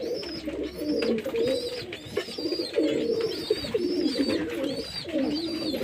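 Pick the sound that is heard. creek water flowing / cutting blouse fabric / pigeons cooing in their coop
pigeons cooing in their coop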